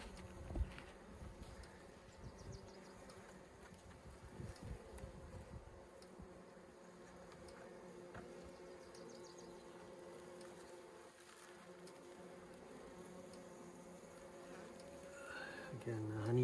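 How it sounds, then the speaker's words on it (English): Honey bees on a hive frame eating queen candy make a continuous close, soft buzzing drone, with some handling rustle early and a brief louder disturbance at the end. "You can see the bees they're eating away at the candy there"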